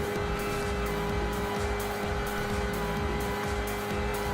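A race car engine held at full throttle in Gran Turismo 5, with the car carrying only basic upgrades. The engine note is a steady, loud, continuous roar that never lets up, with no talking over it.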